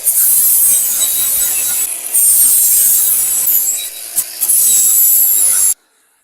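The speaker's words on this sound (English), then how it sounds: "Let's just grind this bad boy back then." Handheld battery angle grinder grinding down a weld, a loud, steady high-pitched abrasive whine with brief dips, close up, cutting off abruptly near the end as the battery dies.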